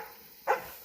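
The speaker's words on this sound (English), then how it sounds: "It's too late to be barking like that." A single sharp bark from a kennel dog at night rings out once, fairly close, after a quiet stretch with faint background hum.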